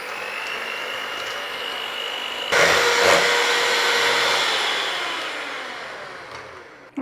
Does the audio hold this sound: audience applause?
no